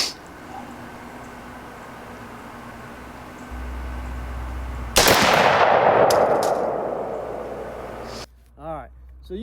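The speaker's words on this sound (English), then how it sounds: "Shoot it one more time, just double check this thing." A single loud rifle shot fired through a digital day/night scope with rangefinder while zeroing, cracking sharply midway after steady outdoor hum and decaying slowly, followed by faint clicks.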